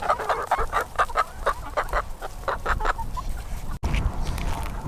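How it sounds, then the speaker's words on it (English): Flock of happy chickens on a farm in the afternoon at feeding time, clucking repeatedly in a steady rhythm of close, fairly loud calls with no talk over them. "there's all the happy chickens out here doing chicken things"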